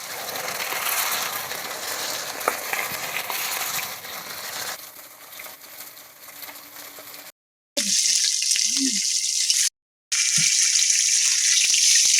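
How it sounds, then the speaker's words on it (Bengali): Dense sizzle of small puti fish frying in oil fills the first half, then thins out; later come brief scraping and clinking sounds with two short silent gaps. "সুন্দর করে ভাজা হয়ে গেছে"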